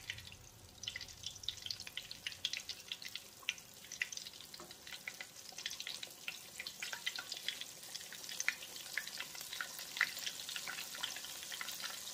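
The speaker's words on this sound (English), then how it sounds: "we're going to let those fry" Catfish bites frying in hot oil as an appetizer, a steady dense crackle and sizzle that holds evenly throughout, close and continuous with no voices.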